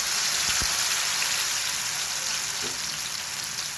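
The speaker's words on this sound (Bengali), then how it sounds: "এখন তেলটা গরম হয়ে গেছে এখন আমি বেগুনি তুলে দিয়ে দেব তেলের মধ্যে" Battered eggplant fritters (beguni) frying in hot oil, a loud, dense, steady hiss of bubbling oil filling the whole clip, close up, with a faint knock or two and no talking.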